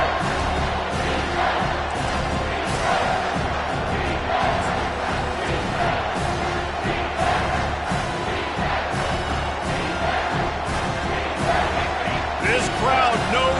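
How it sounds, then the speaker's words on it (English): A football stadium crowd at a Alabama versus TCU game roars loudly and continuously, a dense wall of cheering and shouting with rhythmic surges, heard close and full throughout. "This crowd knows when to bring it."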